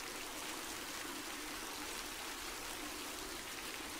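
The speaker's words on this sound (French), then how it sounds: "L'eau coule sur le marbre, fait naître de multiples sources." Water streams over marble ablution fountains in the great hall of the Hassan II Mosque, a steady, faint hiss of running flow without pauses or voices.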